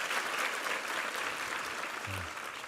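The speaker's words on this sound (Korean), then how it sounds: "수고한 모든 팀들에게 한번 찬 격려 박수 부탁합니다" A crowd claps steadily in sustained applause at a church Sunday service, dense and even throughout, with a brief low hum near the end.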